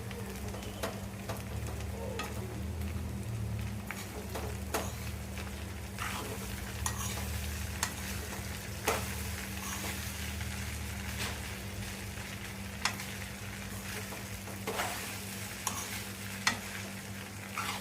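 Poha being stirred in a pan on low heat for batata poha, gentle frying crackle with repeated light scrapes and taps of a spoon against the pan and a low steady hum beneath, quiet and close.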